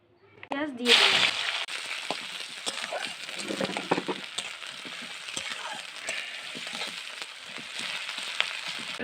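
Chopped onion dropped into hot oil in a kadai for a homestyle chicken curry, bursting into a loud, continuous crackling sizzle that holds steady after a brief clatter at the start, with no talk over it.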